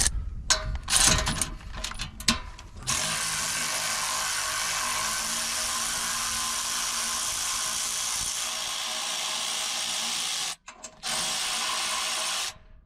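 A ratchet wrench clicks sharply a few times, then runs in a loud, continuous buzzing whir as it removes the stock muffler bolts on a mini excavator, pausing briefly near the end.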